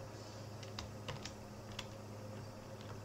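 Keystrokes tap on a computer keyboard over a steady low room hum, a few sharper clicks standing out among quieter soft taps.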